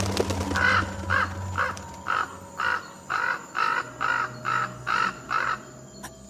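A flying crow caws about nine times in a steady series of harsh, evenly spaced calls against a low background hum.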